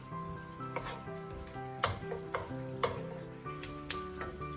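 Congee sizzles steadily in a hot rice cooker pot while a utensil stirs and scrapes against it with repeated clinks, no voices.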